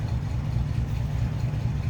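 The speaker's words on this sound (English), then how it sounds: "Sounds like you'd expect a flatty sound that was in a 1950 Ford." A 1950 Ford Custom Deluxe Coupe with its 3.9-liter 239 flathead V8 (8BA) idling, a steady, low, even rumble heard up close with a slight lope and no talking.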